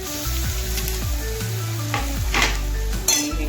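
Chopped tomato tossed into golden fried onions in a hot pan, producing a loud continuous sizzle with repeated stirring scrapes and light clinks of the spoon against the pan, close up with no voices.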